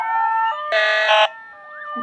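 Electronic siren of a Ford Transit tow truck in the Roblox game, sounding as steady layered tones that swell into a louder, brighter burst mid-way before settling back into a softer wavering tone.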